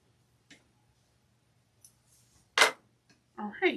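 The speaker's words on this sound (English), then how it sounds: "we're gonna trim the threads" Scissors snip sewing threads on a quilted pumpkin mug rug in a few sharp, separate cuts, with a louder snip near the end and soft handling noises around them.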